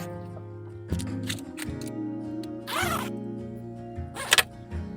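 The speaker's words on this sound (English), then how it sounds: "You'll zip them down." Zippers running down along the sides of magnetic bug screens in a Sprinter camper van, a couple of short close zips with soft rustling of the screen fabric between them, no voices.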